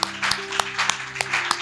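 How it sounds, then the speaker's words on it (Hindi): Loud hand claps from an audience at a church gathering, sharp rhythmic claps roughly every third of a second, with a held tone and some background noise beneath. "जोरदार तालियां बजाएं।"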